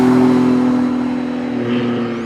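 A Lamborghini Diablo engine holds a loud, steady rev with a strong low tonal drone that eases slightly toward the end, with no voices.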